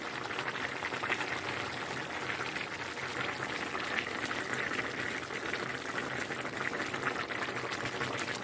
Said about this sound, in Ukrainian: Так ось як гарно кипить.